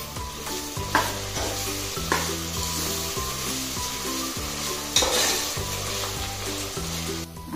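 Tomato chunks fry in a pan with ginger-garlic paste for mutton keema pulav, a constant sizzle broken by rhythmic stirring scrapes and a couple of sharper spoon clacks, nearby and with no talking.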